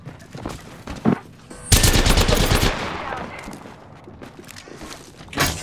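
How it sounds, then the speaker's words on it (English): Gunfire in the Apex Legends battle royale game on the Kings Canyon map, a couple of single shots followed by a loud, close burst of rapid automatic fire that trails off, with another faint shot at the end. "Getting shot at."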